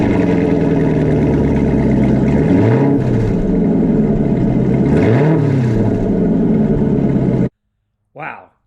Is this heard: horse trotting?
no